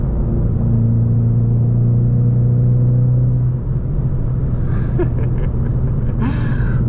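A 2019 Ford Mustang with the EcoBoost engine pulls away under steady load, its engine drone and road rumble loud and continuous from inside the car, with a brief shift in tone partway through.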